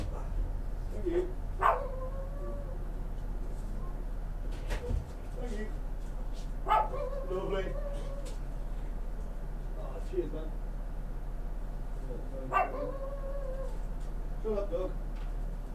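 An indoor dog barks and yelps in several separate bursts, some drawn out like whines, with a steady low hum underneath and brief talk between barks.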